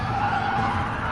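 Race car tyres scrubbing sideways through a corner in a racing game: a sustained squealing skid over an engine drone, brief and steady at moderate loudness, without speech.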